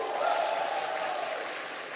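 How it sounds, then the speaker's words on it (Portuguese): An audience at a Catholic religious talk applauds, producing a brief wash of clapping from a crowd that tapers off slightly over two seconds. "Aplauda essa verdade, eles são um."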